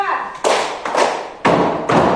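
Schoolchildren in a classroom clap together on the teacher's cue, giving four loud, evenly spaced bursts of massed hand claps, close and crisp.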